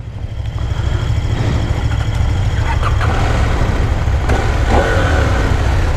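KTM 890 Adventure R motorcycle engine running steadily at a street demo day at Phoenix Raceway, a loud, continuous low rumble close by with slight revving swells and no talk.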